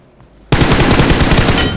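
Rapid automatic gunfire from a shooting video game erupts after a brief quiet moment, a loud, sustained burst of machine-gun rattle that continues to the end.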